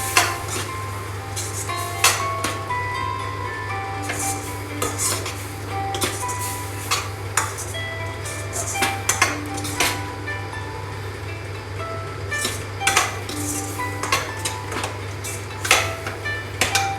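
Cream being mixed into palak paneer in a pan: repeated close scraping and clinking strokes of a spoon against the pan in an uneven rhythm over a constant low hum.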